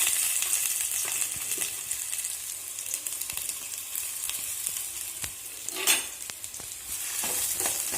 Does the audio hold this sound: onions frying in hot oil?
yes